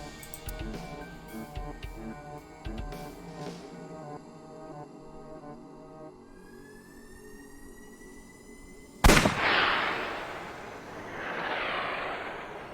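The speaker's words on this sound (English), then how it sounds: "I'll try shooting it." A single sharp gunshot bursts out loud and sudden in AI: The Somnium Files, its hissing tail fading over a few seconds after a stretch of tonal game music and electronic tones; no one talks.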